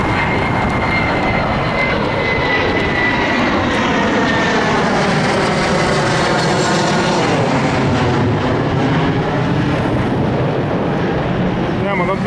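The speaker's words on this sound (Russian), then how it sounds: "Самолеты здесь пролетают." A low-flying airplane drones loudly overhead near El Médano on Tenerife, its steady engine roar shifting in pitch as it passes, mixed with wind and road noise and a voice speaking.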